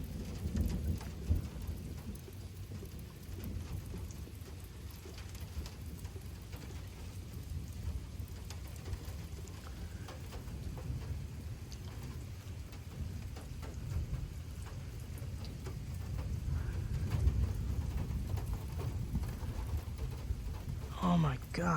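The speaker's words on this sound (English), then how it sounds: "Why do I hear water running?" Steady rush of running water and falling rain during a severe thunderstorm downpour, a continuous broad hiss with low rumbling that swells slightly toward the end, moderately distant.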